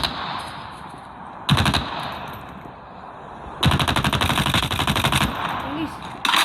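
Automatic gunfire from the mobile shooter game Call of Duty Mobile, two loud rapid bursts, the second longer and sustained, with a short final burst over steady background game ambience.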